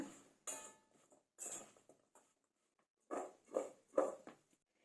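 Potato pieces are tossed in a bowl with flour, rice flour, salt and chilli powder for crispy french fries, making close, short scraping and clinking bursts in two separate groups with quiet gaps between them.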